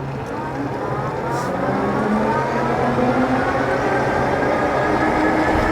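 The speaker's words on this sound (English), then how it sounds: "Now we'll just use a twist throttle and let's see how fast it can go." A Bee Ranger electric bike accelerates on twist throttle alone, a rising electric motor whine building over a steady rolling rumble with wind noise.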